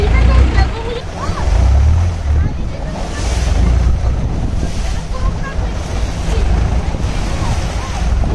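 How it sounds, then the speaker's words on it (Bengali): Choppy river water slaps against a moving boat in Bangkok as strong wind buffets the microphone, a loud, continuous rushing roar with gusty surges throughout. "এখানে প্রচুর ঢেউ, মাঝ নদীতে ঢেউটা বেশি"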